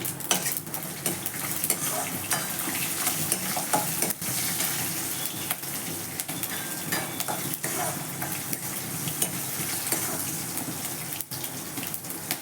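Fenugreek seeds being stirred in a hot pan for a vegetable dish, a steady close scraping and sizzling that runs continuously without any voices.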